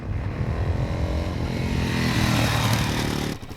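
A 2019 Suzuki DRZ 400SM motorcycle engine drones loudly and steadily, building slightly in intensity before cutting away abruptly near the end.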